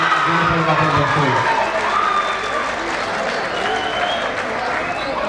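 Applause and whistles from the crowd at a kabaddi match, sustained clapping with shrill whistles rising over a broad, noisy crowd roar, loud and continuous.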